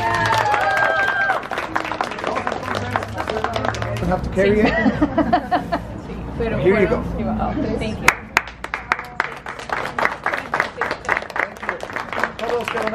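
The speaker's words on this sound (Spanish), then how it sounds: "¡Aplausos!" A crowd at a blood drive event in Phoenix, Arizona breaks into scattered clapping that picks up in the second half, mixed with nearby talking voices throughout.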